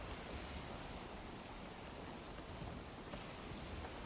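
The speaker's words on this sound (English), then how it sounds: "Rain in the Black Forest." Steady rain falling in a Black Forest setting in the video game Journey to Deep North 2, a continuous dense hiss that stays even and fairly quiet throughout, with no talk over it.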